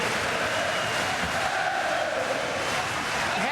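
A large boxing arena crowd at the Kostya Tszyu vs Ricky Hatton fight keeps up a steady, dense roar of cheering and chanting throughout, loud and unbroken.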